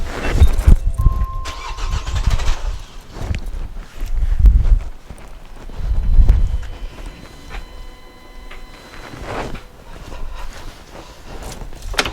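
A Vauxhall Zafira diesel engine under injector leak-off testing cranks in uneven low bursts that rise and fade rather than catching to a steady idle, with clunks and handling noises between attempts.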